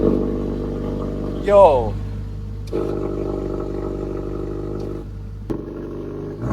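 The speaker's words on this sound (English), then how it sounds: "let's get a cold start up." A wrecked Mercedes-AMG GT 53 cold-starts with a brief starter whir, then catches and settles into a steady, close idle, with a person briefly speaking over the engine.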